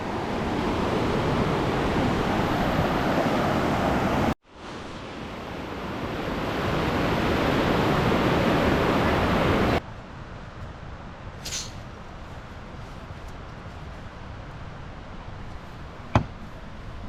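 Rushing river water near a campsite on a multi-day hike to Mount Robson, British Columbia, a loud, steady broadband roar that cuts out briefly, returns, then drops to a softer wash with wind.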